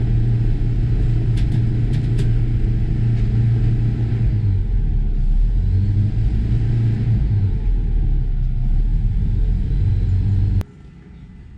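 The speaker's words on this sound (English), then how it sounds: "Listen to that 4-cylinder engine hum." The 4-cylinder engine of a 1991 Bayliner 2159 Trophy boat hums in a steady, loud, close rumble that runs unbroken, then drops off sharply near the end.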